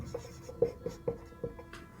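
A teacher writes on a board during a Sanskrit grammar lesson, and quick taps and short scratchy strokes come in an uneven run of about six marks, close and clear, with no talking.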